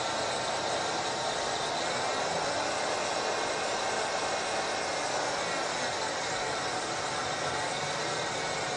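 A Ford car engine idling in a steady, continuous drone with slight shifts in speed as the OBD-1 run test steps through its circuits, with broad hiss throughout and no talk.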